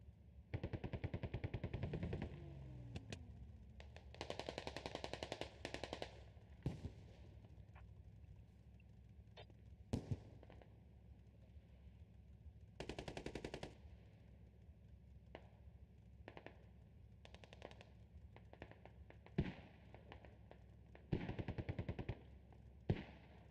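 Bursts of machine gun fire in a Squad competitive match, rapid rattling volleys repeating through the scene with scattered single shots between, some loud and close, others more distant.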